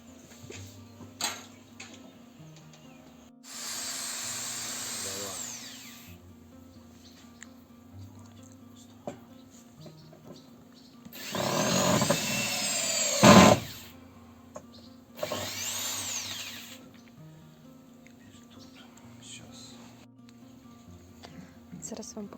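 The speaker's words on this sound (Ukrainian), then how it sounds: "Зараз закручуємо вже шурупи і залишиться покрити маслом." A power drill driving screws into wooden terrace boards, several separate whirring bursts of a few seconds each, one longer and louder, with pauses between them and quiet background hum.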